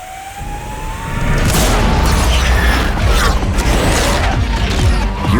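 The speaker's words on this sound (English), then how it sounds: "different high-performance sounds blasting out from both inside and outside" A Hyundai IONIQ 5 N high-performance electric car gives off a synthetic driving sound, a rising whine that swells into a loud, dense roar with booming low end and sweeping tones, close and powerful.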